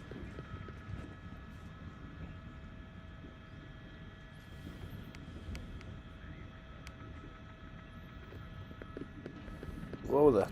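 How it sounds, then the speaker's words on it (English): A steady low rotor drone of two police helicopters overhead during a car chase in California, continuous throughout with a slight swell at the end. "We have 2 helicopters on this guy."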